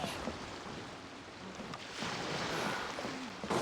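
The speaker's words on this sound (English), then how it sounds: "Waves are as calm as always." Calm ocean waves wash softly around a sailing boat at sea in the video game Genshin Impact. A steady, gentle whoosh of water and wind continues throughout at low volume.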